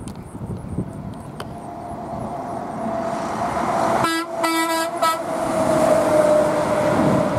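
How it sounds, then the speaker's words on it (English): A loud, sustained semi-truck air horn blasts for about a second amid steady traffic rumble, with a long droning tone continuing underneath. "Try to make the truck honk, Brady, please."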